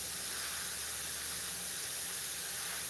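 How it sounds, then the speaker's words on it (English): An Iwata airbrush sprays Createx paint in a steady, even hiss of compressed air that holds at moderate loudness without a break, close to the listener, with no talking over it. "so I'll just spray a little bit here"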